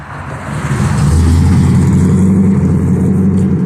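A Corvette engine revs and accelerates close by with a loud, steady, deep roar that builds over a few seconds and holds strong.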